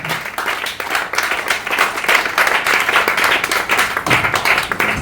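A church congregation in Ouagadougou, Burkina Faso, claps and applauds the Lord during a service, a continuous loud wash of many hands with uneven swells and no speech.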